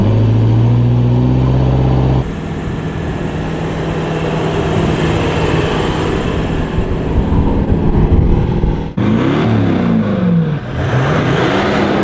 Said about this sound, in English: put a Manta stainless steel exhaust system through the car